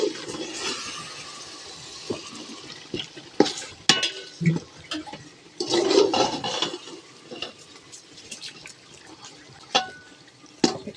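Water poured from a small pot into chicken biryani gravy cooking in a pan, with splashing and sloshing bursts, light clinks of utensils and stirring, close and intermittent without speech.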